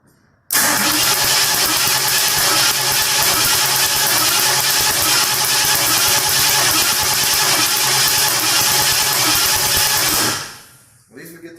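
A 1972 Ford Mach 1 Mustang engine cranking without fuel, a loud, continuous, rapid starter churn that runs for about ten seconds without catching, then winds down and stops.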